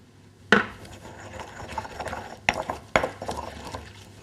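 Garlic and rosemary crushed with flaky salt into a paste, likely in a mortar for seasoning roast New Zealand lamb, giving close, gritty scraping and grinding with a few sharp knocks, fairly quiet with no talking.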